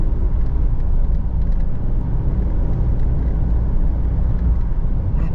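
A Mitsubishi Strada diesel pickup with a straight pipe exhaust drives along, its loud, steady low rumble droning continuously with no pauses and no talking.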